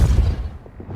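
A deep, booming spell blast in Hogwarts Legacy, one heavy low thump at the start that quickly fades to quiet rumbling with a few faint clicks.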